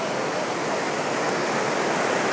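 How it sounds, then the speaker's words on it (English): Year-round mountain creek swollen with spring runoff, roaring as a dense, steady rush of water, loud and close with no voices over it. "It is a year-round creek, it's just right now it's running like crazy loud."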